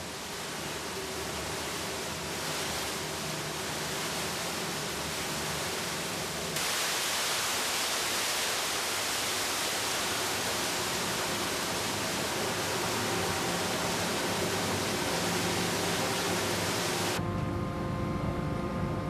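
A high-pressure water leak and deck leaks flood the generator compartment of a ship during a damage repair training exercise. The result is a loud, steady hissing spray that intensifies partway through and continues over a background machinery hum.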